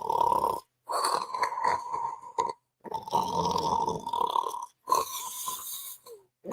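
Human voice imitating snoring, a series of loud, rasping, drawn-out snores in a steady rhythm separated by short silent breaths.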